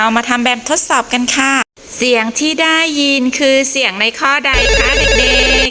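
A telephone ringtone plays as a test sound in a science lesson for young children. Someone speaks first, then the ring sounds loud and clear at the end.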